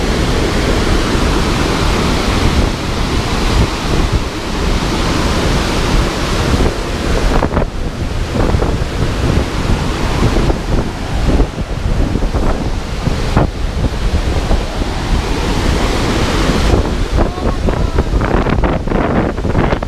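Roaring rush of a waterfall in Quebec on an overcast, blustery day, a dense, steady broadband wash heard up close and loud throughout, with wind buffeting the microphone.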